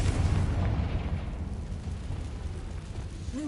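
The Confringo fire spell from Hogwarts Legacy detonates in a loud, broad explosive blast that slowly fades into a rumbling roar, with no talking.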